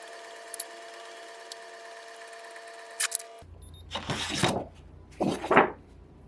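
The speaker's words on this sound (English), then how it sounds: "so now I'm ready to print" An inkjet printer running a test print for a craft keychain project: a steady mechanical hum, then louder bursts of whirring and feeding noise as the print head moves, close and with no talking.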